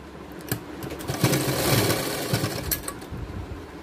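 A sewing machine runs a final stitch along the side of a loose baby gown, its rapid mechanical chatter rising and easing in short close bursts with no talking.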